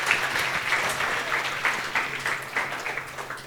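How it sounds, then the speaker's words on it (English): A conference audience claps in sustained applause that stays dense and even for several seconds, with no voices over it. "Another big hand of applause for her"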